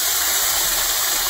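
Seafood sauce poured into a kazan, a cauldron, during cooking, giving a brief, steady rushing pour that is even and uninterrupted and heard alone.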